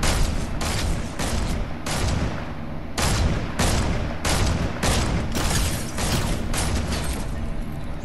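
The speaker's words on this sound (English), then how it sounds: "I'm using an AK and I'm murking you with it." Rapid AK rifle gunfire in Fortnite, loud close bursts of shots broken by short pauses, repeating for several seconds with no voices over it.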